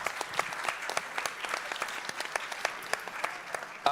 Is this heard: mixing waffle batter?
no